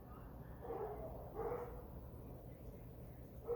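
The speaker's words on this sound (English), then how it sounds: "all the dogs barking in the background" Several dogs bark in the distance behind an indoor scene, giving a few muffled, faint woofs spaced irregularly over a steady low hum.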